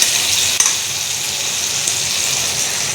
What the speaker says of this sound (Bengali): টমাটোটা দিয়ে দিলাম এর মধ্যে। মশলাটা কষানো হয়ে গেল